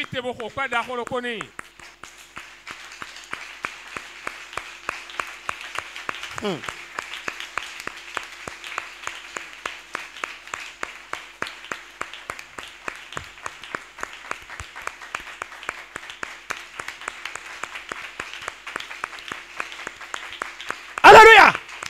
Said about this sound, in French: lève-toi et donne-lui une grande acclamation